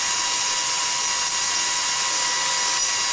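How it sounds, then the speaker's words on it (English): A power dowel cutter trims the end of a wooden piece for a Japanese shoji screen down to a 7 mm dowel, giving a steady high-pitched whine that is close and constant throughout, with no talking. "as I put the piece through it, it trims the end to a dowel which is 7 millimeters in diameter"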